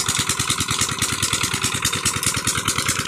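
A tube well pump engine in Sialkot, Pakistan runs steadily and close by, with a fast regular low thudding beat that holds even throughout, no voices over it.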